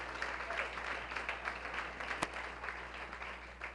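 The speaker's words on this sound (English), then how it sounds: "Can we give a round of applause for our great-grandparents?" An audience at a neighborhood best-practices conference gives a round of applause, a faint, steady patter of many hands clapping with no voices over it.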